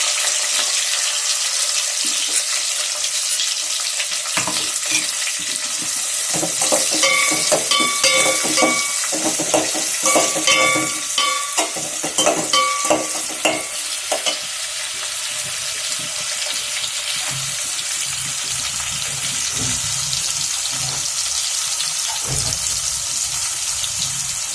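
Onions stirred and frying in a pan for prawn biryani, a continuous loud hiss with scraping stir strokes and clatter through the middle, no talking.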